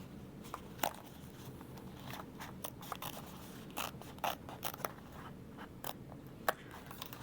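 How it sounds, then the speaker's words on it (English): Scissors snip through the box corner of a sewn fabric crossbody bag, with a series of small, irregular crisp cuts and faint rustling, close up over a low steady room hum. "And then we'll cut that box open."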